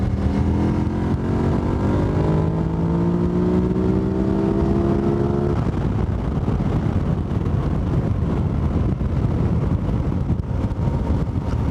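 A car engine drones loudly with a steadily rising tone that accelerates for several seconds, then shifts to a rougher, broadband road and wind roar as the throttle responds jerkily.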